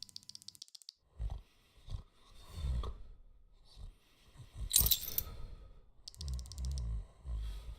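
Keys being picked up in the video game PRIM, a metallic jingle and clicks mixed among scattered thuds and mechanical rattles, moderately loud and close.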